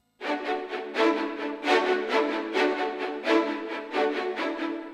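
A first violins section from a sample library recorded on the scoring stage of Abbey Road Studio One plays a rhythmic, pulsing string passage in repeated swells, full and roomy, with no voices over it.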